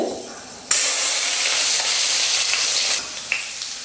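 Garlic cloves fry in a pan with cumin and fenugreek for a spicy curry, bursting into a loud, steady sizzle that cuts off sharply near the end, with brief stirring scrapes after.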